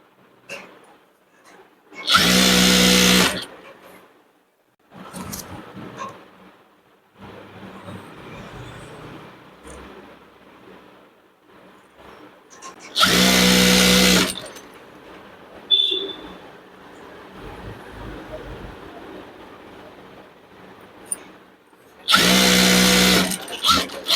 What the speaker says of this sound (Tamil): இதையும் வந்து இப்படி மடித்து இப்படி தைச்சிடலாம்